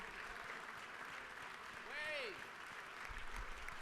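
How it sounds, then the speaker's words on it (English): Applause rises in the Georgia House of Representatives chamber for an SEC championship men's soccer team, a steady crowd clapping with a brief whoop and whistle near the middle. "y'all going to give them a round of applause"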